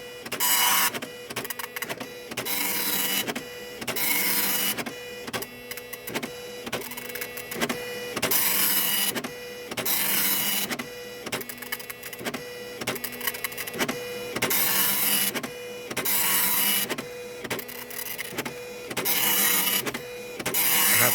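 A Citizen GSX-140 dot matrix printer prints text on a single loaded sheet, with a loud, close buzzing rasp in regular bursts separated by short pauses as the print head sweeps back and forth, repeating steadily without any voices.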